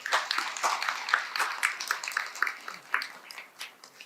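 Scattered clapping from an audience at a Buddhist dharma lecture, a loose series of distinct claps that thins toward the end.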